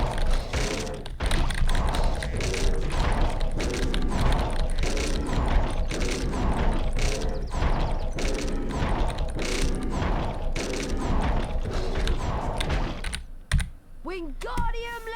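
A mechanical washing-machine contraption in the Harry Potter and the Chamber of Secrets PS1 game clatters with steady, rapid ratcheting clicks, loud and continuous, before ending in a brief chime-like flourish.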